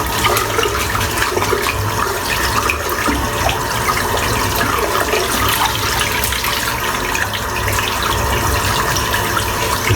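A shaving brush is rinsed under a running tap. The water gushes and splashes steadily and loudly into a basin throughout, with no talk.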